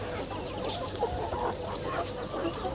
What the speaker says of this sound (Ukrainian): Мої курчаточки радіють новому вигулу.